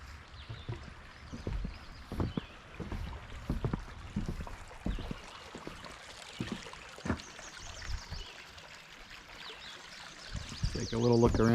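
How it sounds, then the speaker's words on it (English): A creek runs beneath a footbridge on a muddy hiking trail, a faint, steady trickle of water under recurring footsteps and clatter, with a voice briefly heard near the end. "Nice creek running through."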